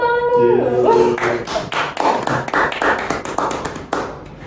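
A small group in a guidance-and-counseling class claps in uneven bursts of taps, a few hands near and distinct rather than a full crowd, with a voice speaking at the start.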